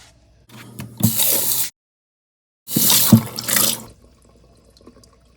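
Running water splashes over a homemade kitchen organizer as it is rinsed, in two loud bursts separated by a brief silence, then fades to faint dripping.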